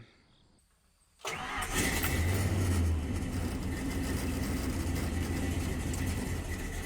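A Ford Mustang engine cranks and catches after a quiet moment, then settles into a steady, loud, close idle with a deep low rumble and no talking.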